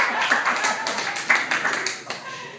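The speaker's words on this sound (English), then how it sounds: "You're supposed to clap there" A small comedy-show audience claps in a short, scattered burst of applause, close and moderately loud, without speech over it.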